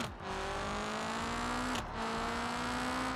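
The Sunburst Track Attack engine in BeamNG.drive drones with a steady whining hum that climbs slowly in pitch, briefly dips as it shifts, then continues rising, close and unbroken with no talk.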